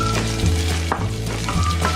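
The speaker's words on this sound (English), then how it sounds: "So what we're going to do now is add the onion." Onion sizzles in hot oil with a close, continuous frying hiss, broken by a few soft knocks and stirs under a low steady hum.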